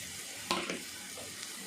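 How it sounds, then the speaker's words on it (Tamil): Dried chili, coriander and curry leaves are stirred and sautéed in a pan for beetroot poriyal, giving a brief soft sizzle with a couple of scraping stirs, close and fairly quiet. "இப்போ நம்ம இது எல்லாமே நல்லா வதக்கலாம்"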